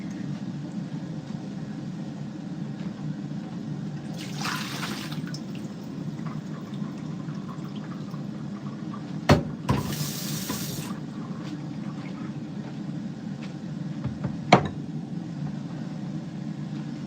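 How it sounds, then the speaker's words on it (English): Food is rinsed and the water poured away in a home kitchen during cooking, heard as two short splashing bursts of water over a quiet background with a few light clicks. "Let me just wash this and throw the water away."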